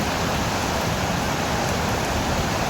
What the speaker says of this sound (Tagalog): Wala na namang tigil ang ulan